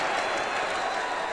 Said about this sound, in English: Now this Wildcat crowd comes alive on a big 3rd down